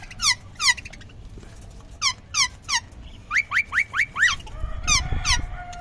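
Green parrots squawk near the microphone in a rapid series of sharp, rasping calls, repeated in quick bursts of two to five, with a low rumble of background noise and no talk.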